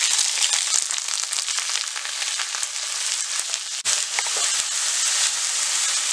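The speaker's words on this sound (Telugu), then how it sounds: "ఆ తర్వాత ఇలా కట్ చేసుకున్న ఒక 1/2 కేజీ వంకాయలు వేసుకొని ఫ్రై చేసుకోవాలి" Half a kilo of cut eggplant pieces with curry leaves fry in an oil-filled pan for an onion eggplant dish, giving a steady, loud, hissing sizzle with scattered crackles and a brief stirring clatter, with no talking.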